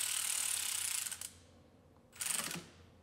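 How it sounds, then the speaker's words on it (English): An electric ratchet tightens a nut on a starter wire during Mustang engine work, giving two close mechanical buzzing runs, a longer one followed by a short second burst after a pause. "We're also going to tighten that down with an electric ratchet."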